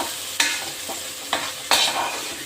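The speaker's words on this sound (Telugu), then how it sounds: "ఆ పేస్ట్ ఇప్పుడు ఆయిల్లో వేసుకున్నాను" Broadband sizzling of onion paste frying in hot oil, with a few sharp stirring scrapes cutting through the steady hiss.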